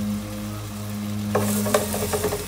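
Tofu hitting hot oil in a pan for a vegan Thai fried vegetable rice, with bright sizzling bursts starting partway through over a steady low hum and tonal background sound, close and moderately loud.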